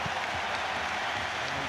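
A large stadium crowd at an Arsenal versus Dinamo Zagreb Champions League match claps and murmurs in a distant, even wash of applause, fairly faint and continuous.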